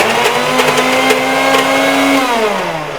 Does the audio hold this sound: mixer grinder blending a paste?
yes